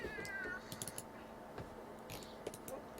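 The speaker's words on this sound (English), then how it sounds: "You can sort of hear the cat sounds." A cat in the video game The Sims 2 meows several times, close and clear, over light clicking that resembles keyboard typing.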